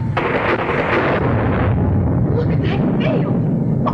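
Heavy thunder from a storm rolls in a long, loud, continuous rumble, dense and booming throughout, in an old 1939 film soundtrack with some muffled voices underneath.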